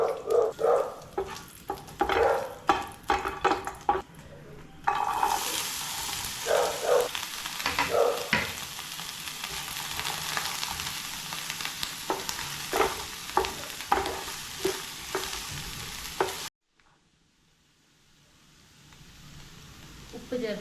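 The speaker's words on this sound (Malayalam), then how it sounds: "ഇനി ഇതിലേക്ക് ഏലക്കായും ഗ്രാമ്പും ഒക്കെ ഇട്ട് കൊടുക്കാം." Cardamom and cloves dropped into hot oil in a pan crackle and spit after a few clinks, then settle into a loud, steady frying hiss with sporadic pops, before cutting off into near silence.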